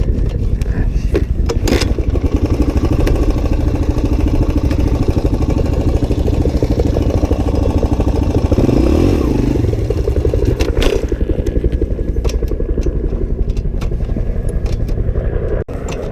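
A Suzuki DR-Z 125 pit bike engine runs steadily and loud throughout, with an uneven idle and a little clatter, and a brief change in tone near the middle.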